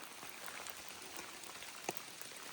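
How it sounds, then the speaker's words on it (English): Steady light rain falls along the Appalachian Trail near Unicoi Gap in warm weather, a soft, even patter with one sharper drip midway, no voices. "we're gonna be in rain probably most of the day"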